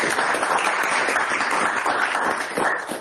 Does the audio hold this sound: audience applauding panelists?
yes